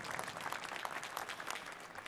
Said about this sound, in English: I would ask for a round of applause to our sponsors